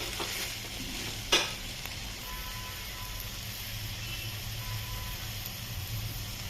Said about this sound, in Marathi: मी आता याच्यामध्ये सगळे मसाले टाकलेत आणि आता चांगले त्यांना परतून घेऊया.